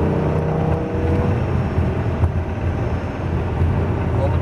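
A Lamborghini Gallardo accelerating on a race track, its engine giving a loud, sustained rising roar from inside the cabin, with a voice talking over it.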